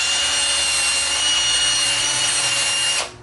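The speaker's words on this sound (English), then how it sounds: "I think I need to just drill it out just a little bit" A steady, high-pitched whirring drill runs continuously at close range, drilling out a battery tube, then winds down and stops near the end.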